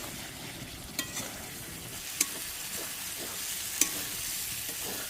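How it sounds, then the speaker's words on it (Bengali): Chicken and potato curry with cashew paste is stirred in a pan, the lid lifted off, and a soft continuous sizzle runs under a few distinct scraping clinks of the spoon against the pan. "মাঝে মধ্যে এরকম করে নাড়তে থাকবেন।"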